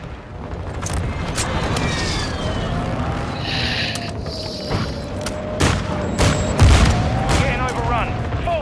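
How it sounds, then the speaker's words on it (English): Precision airstrike explosions and gunfire in Call of Duty: Modern Warfare II, with continuous rumbling booms and scattered bursts of gunfire filling the battlefield, loud and dense, plus whistling projectiles and a few sharp cracks near the end. "Friendly precision airstrike inbound."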